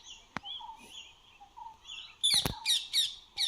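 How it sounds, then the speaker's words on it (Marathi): Harsh, screechy rose-ringed parakeet calls burst out in a quick cluster near the end, several shrill squawks in a row after quieter chirps and background calls. "रेड रिंग पॅरोट काय बोलतो"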